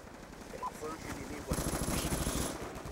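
Automatic rifle fire in a shooter video game, a rapid sustained burst of shots that grows louder partway through, with a player's voice heard faintly alongside.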